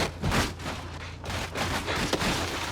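A car tumbling over rocks in BeamNG.drive, with a run of loud, clattering crashes and thuds in quick succession as the body rolls and slams, continuous impact noise throughout.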